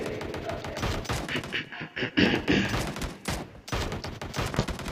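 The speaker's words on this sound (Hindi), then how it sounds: "वहां पर फायरिंग हो रही थी बहुत ज्यादा" Gunfire in a PUBG Mobile match: a dense stream of rapid shots and bursts, loud and close, with short gaps and some voice sound mixed in.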